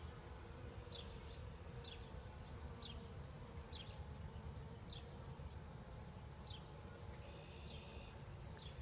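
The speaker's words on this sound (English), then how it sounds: "We got a full frame of bees here." A full hive frame of bees gives a steady, dense, low buzzing drone throughout, with faint chirps from birds outside repeating in the background.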